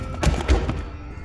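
A heavy object falls at the back of a vehicle in a story sound effect, giving a loud, close double thud with a short, rough rumble.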